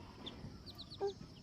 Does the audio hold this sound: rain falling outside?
no